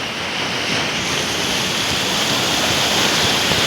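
Bay of Bengal sea waves roll in continuously along an eroded shoreline, a loud, steady roar of surf with wind noise and no break.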